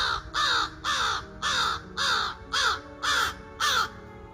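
A crow gives eight harsh, hoarse caws in an even, steady rhythm, close and clear with nothing else heard.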